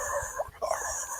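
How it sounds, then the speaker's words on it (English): A dog whimpers from inside a house, a short, faint pair of high whines with breathy pauses between them. "you can hear a dog on the inside"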